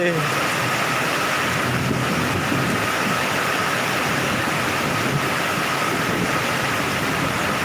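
Heavy, steady rain pours down in a dense, unbroken hiss, loud and close throughout.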